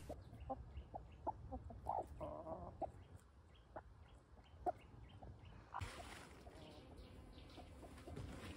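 Two backyard garden chickens cluck in short soft bursts at a distance, with quiet outdoor ambience and a faint hiss of background noise later on.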